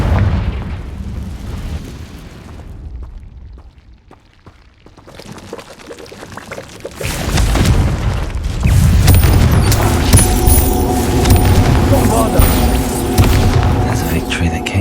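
Confringo explosion spell in Hogwarts Legacy, heard as a loud booming blast with crackling fiery bursts and rumbling debris, preceded by quieter game ambience and a voice speaking.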